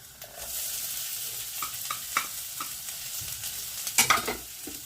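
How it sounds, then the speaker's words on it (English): Onion, celery and carrot sofrito sizzles in extra virgin olive oil in a pan, a steady close hiss with scattered pops and a few stirring scrapes, briefly louder near the end. "pan on, extra virgin olive oil in, then we add our sofrito"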